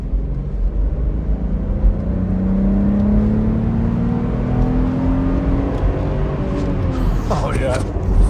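Steady engine drone of a VW Golf Syncro cruising in second gear around 2000 rpm on a bumpy road, pitch rising gently as revs climb, heard from inside with road rumble.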